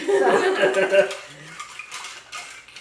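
A gin gimlet made with Ben Milam's Provision Distiller's Gin is stirred in a glass, giving close clinking and scraping of a spoon against glass and ice, mostly at the start, alongside a bit of voice.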